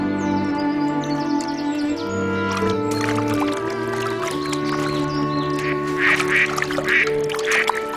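Ducks quack repeatedly and close by, several calls overlapping, with some splashing water in the background.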